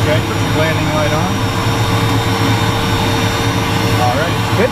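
A Cirrus Vision Jet engine runs with a constant whining hum and a low drone, heard from inside the cockpit with occasional speech over the noise.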